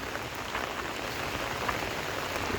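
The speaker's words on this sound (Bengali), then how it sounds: "বৃষ্টি" Steady rain pattering on an umbrella outside a mosque after Friday prayer, a constant close hiss of drops with no talking.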